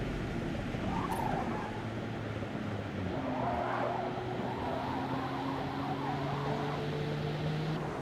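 Race car tires squeal in Forza Motorsport, a steady engine drone underneath with a rising screech around the middle, continuous and fairly loud throughout with no voices.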